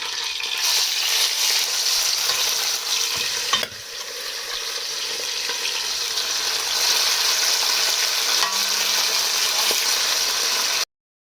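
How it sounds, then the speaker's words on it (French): Beef marinated in pounded garlic, pepper and parsley sizzles steadily in a hot pan, a dense continuous hiss with a brief stir or clatter partway through, no voices. "je vais maintenant mettre la viande à cuire"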